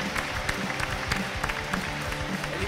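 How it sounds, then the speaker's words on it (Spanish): A crowd applauds at a lively festive gathering in Spain, dense continuous clapping filling the whole moment at close range with a busy murmur underneath. "Un aplauso para él"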